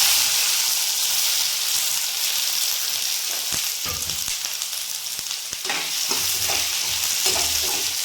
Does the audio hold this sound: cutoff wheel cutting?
no